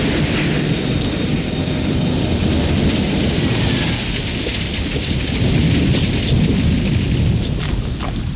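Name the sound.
rain and thunderstorm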